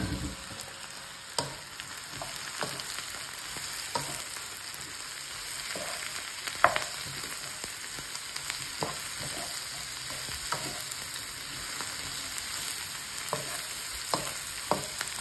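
Mushrooms sizzle steadily in a hot pan, with a spatula scraping and stirring in sharp, irregular clicks throughout; no one speaks.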